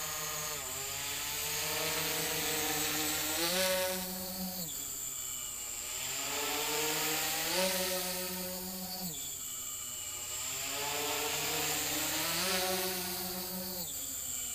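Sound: multirotor drone motors at descending full throttle

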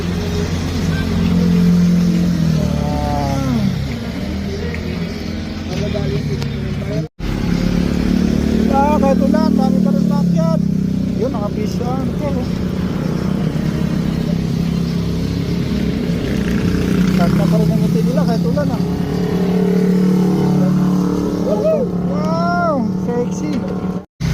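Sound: motorcycle riding past on a mountain road

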